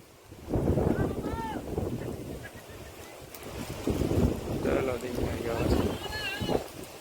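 Gusty wind sweeps across open farmland just before the season's first monsoon rain, roaring steadily into the microphone while several people talk excitedly over it.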